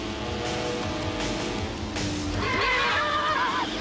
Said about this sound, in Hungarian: Azzal szórakoznak, hogy egy lovat ijesztgetnek.